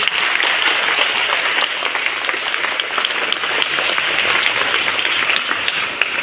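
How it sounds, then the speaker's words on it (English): A school audience at a Chhatrapati Shahu Maharaj Jayanti celebration at Holy Cross School, Kolhapur, applauds a child's speech with dense, steady clapping that fills the room and does not let up. "I think she deserves a loud round of applause."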